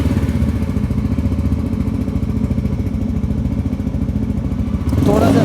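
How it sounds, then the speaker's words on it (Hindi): A 2025 Yezdi Roadster 350 motorcycle idles close by with a steady, rapid thumping exhaust beat, then briefly swells as the throttle is blipped at the end, with no talk over it. "फ़िलहाल जब बाइक स्टार्ट हो ही गई है तो एक बार एग्जॉस्ट नोट भी सुन लिया जाए"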